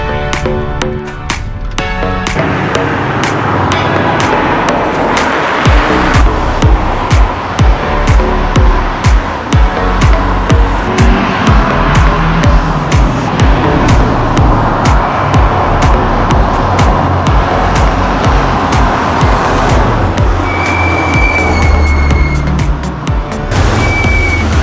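Loud, continuous tire noise and engine roar from an Audi quattro or Lancia Integrale driven hard on the road, with the tires squealing and the engine note rising and falling as the car accelerates through the gears.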